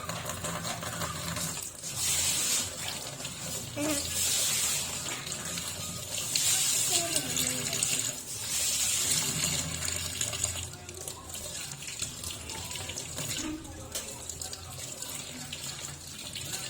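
A kitchen tap runs steadily into a sink while washed dishes are rinsed. The splashing is continuous and close, rising and falling as the dishes move under the stream.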